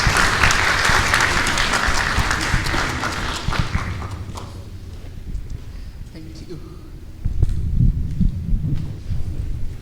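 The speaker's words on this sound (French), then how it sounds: "On applaudit pour les panélistes." A town hall meeting audience applauds loudly for the panelists, the clapping fading out after a few seconds, then voices and room noise take over.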